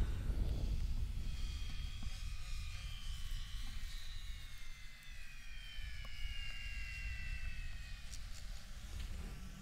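Droning whine of small drone-swarm aircraft flying overhead as they come in to land, a continuous engine tone whose pitch slowly glides, with a person speaking over it.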